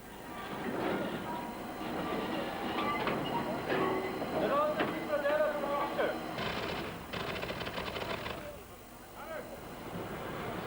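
Steam locomotive 03003, an express class, runs on rails during a special working, giving a dense rhythmic chuffing and clattering rumble with sharp bursts, fairly loud and steady before easing off near the end.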